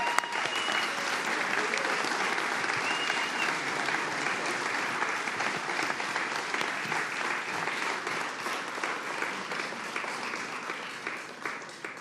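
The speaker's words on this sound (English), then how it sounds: "please stand and give a big round of applause for the 57th Governor of the great state of New York" A large audience gives New York Governor Kathy Hochul a standing round of applause at a public event, a thick, even wash of clapping that holds steady for the whole stretch and fades slightly toward the end.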